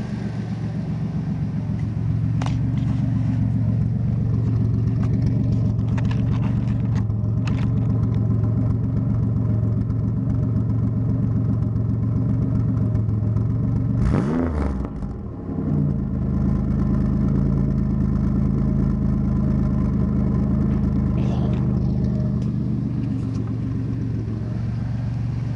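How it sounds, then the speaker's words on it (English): A turbocharged 3400 engine in a Chevrolet Cavalier runs with no muffler, a steady, loud low rumble that holds throughout, with a brief rise and dip in the middle. "I don't have a muffler on it or anything. I just have the turbo up against it, and it sounds excellent in my opinion."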